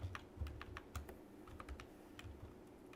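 Typing code on a computer keyboard during a hybrid inheritance programming lesson, a steady run of quick key taps with occasional heavier presses, close and clear over a low room hum, no talking.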